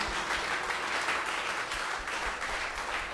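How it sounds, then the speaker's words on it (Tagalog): Congregation applause during a Filipino church worship service, a steady dense wash of clapping filling the room for several seconds without pause. "the best na palakpak para kay Jesus"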